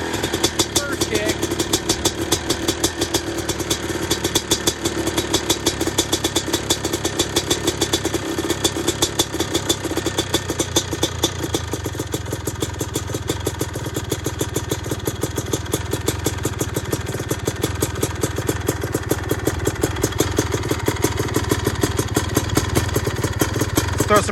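A two-stroke dirt bike, a Yamaha YZ250 engine in a Suzuki RM-Z250 conversion with a Smartcarb running rich on 28:1 premix, idles steadily after a first kick, a close, continuous ragged popping burble throughout with a voice speaking over it.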